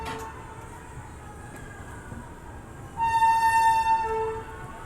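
Patna-Howrah Express at Patna Sahib railway station, a steady low rumble of the train with a loud tonal horn blast rising midway and holding for over a second before fading, no voices.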